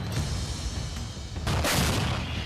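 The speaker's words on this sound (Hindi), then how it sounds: "यूक्रेन की सेना पुतिन के लड़ाकों पर पाकिस्तान से आए दिन इन खास गोलों को बरसा रही है।" Artillery fire from Ukrainian army guns using Pakistani-made 122 mm HE shells, heard as a rumbling, noisy blast that swells midway into a harsher, louder burst with no voices.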